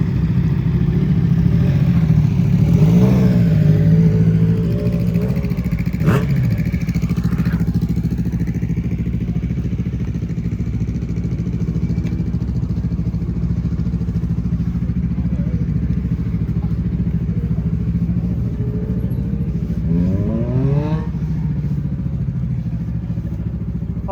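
A Ducati Scrambler motorcycle engine idles steadily and close by, a constant low rumble throughout with a few faint clatters and a short rising rev sweep near the end.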